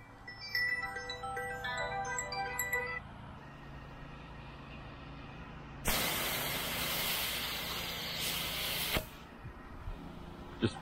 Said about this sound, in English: spraying this last part of the roof